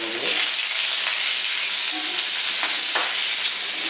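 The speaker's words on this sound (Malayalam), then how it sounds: "അപ്പൊ അതും കൂടെ ചേർത്ത് കൊടുത്തിട്ട് നമുക്കൊന്ന് ജസ്റ്റ് ഒന്ന് ഇളക്കിയേക്കാം." Long green beans curry being stirred in a pan after salt goes in, a bright steady sizzle with a few spoon scrapes and knocks against the pan, close and continuous, without speech.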